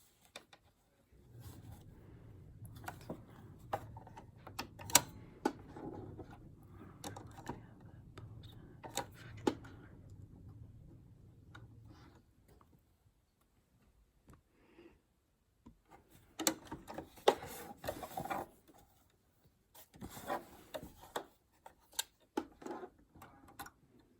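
A home sewing machine stitches an X pattern onto a case handle, its needle ticking in a steady mechanical run for several seconds, then stopping and starting again in shorter bursts with soft handling noises between.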